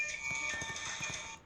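A mobile phone notification plays as a bright, steady electronic tone of stacked pitches, held for over a second, with faint soft thumps underneath.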